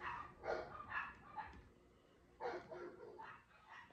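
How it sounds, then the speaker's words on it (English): Several dogs bark in bursts outdoors, with yips and short woofs in two clusters separated by a pause, moderately distant and fairly faint. "Excuse these damn dogs. They want to start barking as soon as I want to start recording."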